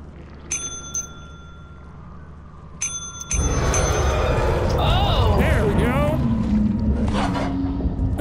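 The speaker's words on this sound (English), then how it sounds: "And you just ring the bell once we have everything there." A bell rings in the video game Lethal Company, a few bright metallic dings near the start and again around three seconds, before loud game noise and voices take over.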